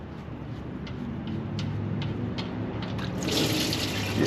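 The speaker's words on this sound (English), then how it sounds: "that's water coming out of there." Water trickles and then gushes out of the brake system of a nearly 30-year-old backhoe, a steady dribbling flow with small drips that swells into a louder hissing pour.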